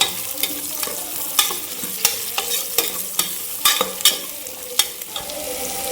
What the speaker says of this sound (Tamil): காய் போட்டு ஒரு கிளறு கிளறி விட்டுங்க